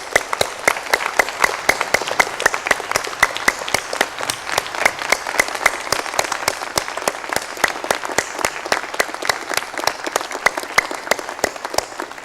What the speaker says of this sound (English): Please join me in applauding Chancellor Pritchett.